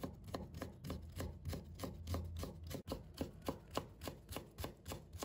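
A knife chops peeled ginger into fine shreds on a cutting board, with quick, evenly spaced taps repeating steadily at close range.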